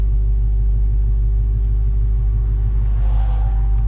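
Dodge Hellcat engine in sport mode with traction control off, a loud steady low rumble at idle or light load, continuous and close, with no voices.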